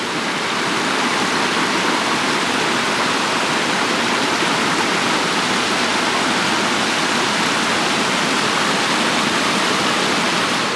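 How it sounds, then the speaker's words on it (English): A flowing creek in the Great Basin, habitat for Bonneville trout, rushes in a steady, close, full-bodied wash of water that holds constant without pause, with no voices over it. "enjoying this beautiful creek, which I'm told is a habitat for Bonneville trout"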